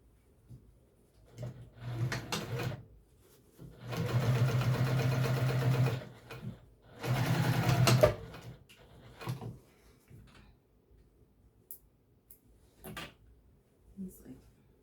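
A sewing machine bastes tulle apron skirts in two long bursts of steady stitching, with shorter stitching spurts and fabric handling between them, close and fairly loud.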